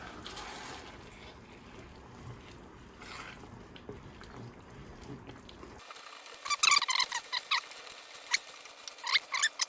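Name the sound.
deglazing a simmering pan with a wooden spoon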